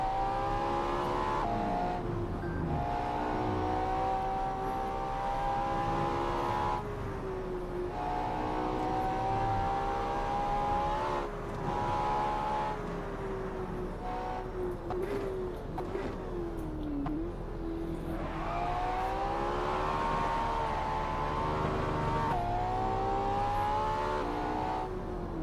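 A Porsche engine revs hard and steadily in the racing game Assetto Corsa on a Shuto expressway run, its pitch climbing and dropping through gear shifts, loud and close for the whole stretch.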